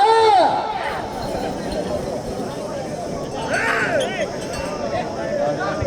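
A large crowd shouts and cheers at an outdoor bull-pair racing contest in Avulampalli, a steady roar of mixed voices and yells with a few louder bursts, sustained throughout.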